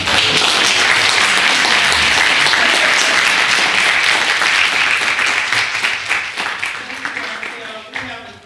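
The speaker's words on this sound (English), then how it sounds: "we would like for you to give a round of applause to acknowledge the leadership and work of Mrs. Beverly Davis." An audience at a fair housing event claps for an office leader, a loud sustained wash of applause that thins and tapers off over the final seconds.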